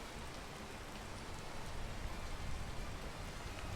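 Steady rain in a video game played on a harder difficulty, with blizzards also under way: a dense, even hiss of falling rain and drops on surfaces, constant throughout and moderately loud, with no talk.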